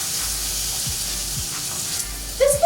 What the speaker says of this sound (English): that extra fat from just a squeeze of olive oil helps it sizzle up a little bit more.